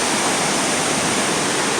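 A river churns through Class 5/6 rapids in a loud, constant roar of rushing whitewater, dense and unbroken with no voices.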